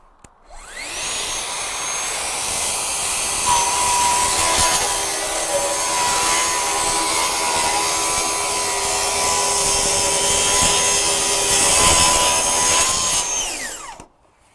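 Festool TSC 55 cordless plunge saw running on a guide rail with dust extraction attached, giving one sustained, loud, close whine from spin-up to wind-down that lasts about thirteen seconds, with no voices.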